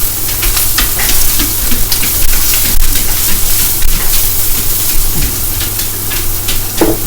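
Sautéed peppers sizzle and crackle in a frying pan as they are stirred, a close, continuous hiss with scattered pops throughout.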